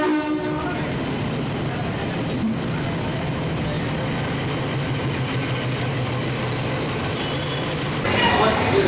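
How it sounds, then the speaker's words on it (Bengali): Maa Tara Express train at Sealdah station, a steady loud rumble of carriages with rail clatter and the busy platform around it, growing louder near the end. "চলে এসছে মাতারা এক্সপ্রেস শিয়ালদা থেকে রামপুরহাট"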